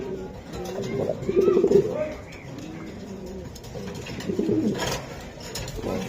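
Racing pigeons, silver Giribaj birds, coo in low rounded bursts from a nearby loft, loudest in a cluster early on and again near the end, while people talk intermittently in the background.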